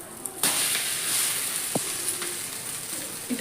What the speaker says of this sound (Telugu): ఇటు పక్కన తిప్పి మళ్ళీ ఫ్రై చేసుకోవాలి